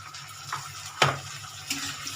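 Ginger-garlic, cumin and green chili paste fry in a pan with a soft sizzle and clinking stirring sounds, including one sharp scrape near the middle.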